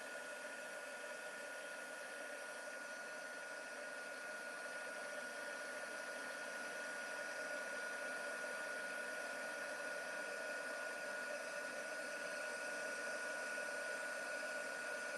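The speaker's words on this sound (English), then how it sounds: "Your heat tool really needs to heat up before, and it gets so bright and white" A crafting heat tool runs continuously as it heats up, a steady airy fan whir with a faint high whine, even and unbroken, quiet and close, with no speech.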